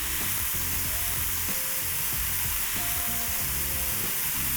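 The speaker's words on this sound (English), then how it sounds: "You want to see the smoke, hear the sizzle." Beef sears in a very hot pan for a Chinese noodle dish, a loud, dense and continuous sizzle close up with a few faint clinks underneath and no talking.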